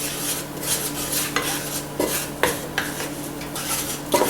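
A utensil stirs and scrapes a flour roux around a pan, giving repeated short metallic scrapes and clinks over a faint sizzle, with no talking.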